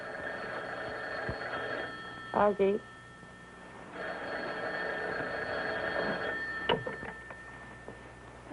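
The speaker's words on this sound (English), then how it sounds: "answer the phone" A household telephone in a 1950s sitcom rings with a bright electric bell tone in a few repeated bursts, with people speaking between the rings.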